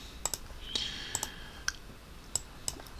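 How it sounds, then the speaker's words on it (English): Sharp computer mouse clicks, about eight of them, spaced irregularly and close up, with quiet room tone in between while a project is set up in STM32 software. "I click next."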